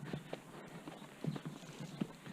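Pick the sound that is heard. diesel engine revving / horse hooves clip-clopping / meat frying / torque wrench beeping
horse hooves clip-clopping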